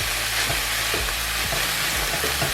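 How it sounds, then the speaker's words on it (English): Sliced mushrooms fry loudly in oil for a vegan chilli and are stirred through the pan, giving a constant close sizzle broken by repeated rhythmic scrapes of the spoon. "we're going to add 125 grams of sliced mushrooms. And we're going to stir these"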